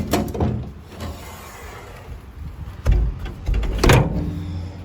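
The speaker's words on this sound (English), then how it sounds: "You can close the door afterwards." A bus door thuds shut twice with a brief mechanical rattle, fairly close, with a low background rumble in between and no talking.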